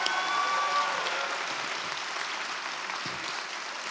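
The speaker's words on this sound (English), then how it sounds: "Let's give a round of applause for our students" Audience applause for graduating students at a John Jay College of Criminal Justice graduate hooding ceremony, a steady wash of many hands clapping in a large hall, evenly sustained and moderately loud throughout.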